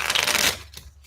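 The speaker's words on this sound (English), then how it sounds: "we are going to do some shuffling" Tarot cards being shuffled up close, a brisk papery riffle that runs for half a second and then breaks into a couple of soft slaps and taps.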